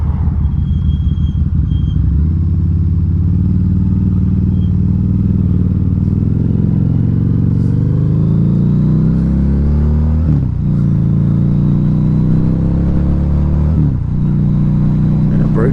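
A 2012 Harley-Davidson V-Rod Muscle with Vance and Hines pipes rumbles loudly throughout a ride, its deep V-twin engine note shifting and surging with a few brief revs, heard close and continuous.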